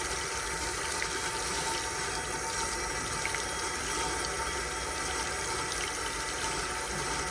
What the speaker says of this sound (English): I'm just running water through the feed.